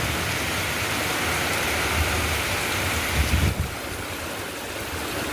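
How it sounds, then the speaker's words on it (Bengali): A dense, steady hiss of heavy rain during the Durga Puja festival fills the scene, with a brief low thump partway through and no voices. "ভীষণ বৃষ্টি"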